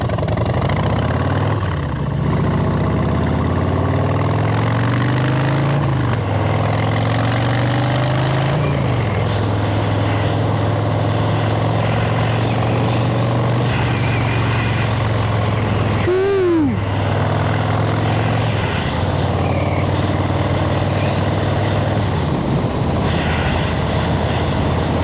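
A bobber motorcycle engine rumbles at idle and then revs and rides, its low throbbing note rising and falling several times, close and loud with no talk.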